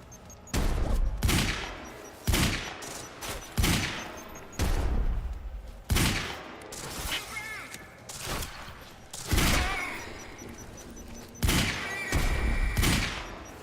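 Dense firefight in the game Quantum Break: repeated grenade explosions and bursts of gunfire crowd one another in quick, irregular succession, loud and near throughout.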